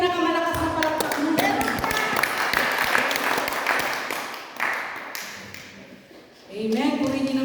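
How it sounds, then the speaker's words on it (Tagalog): A church congregation claps together, a short burst of mixed applause and taps blended with a speaking voice and some thuds, fading briefly near the end before talk resumes. "Isang malakas na palakpak nga po sa Lord, mga kapatid."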